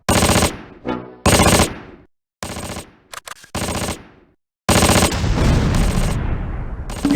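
Gunfire in the Close Combat war game: several sharp bursts of machine-gun and rifle fire separated by silent gaps, loud and close, ending in a longer sustained fusillade.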